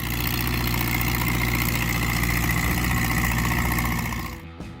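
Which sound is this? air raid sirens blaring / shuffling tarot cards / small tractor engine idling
small tractor engine idling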